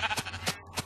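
A Minecraft sheep bleats in the game, giving a few short, faint, rhythmic bleats in under a second.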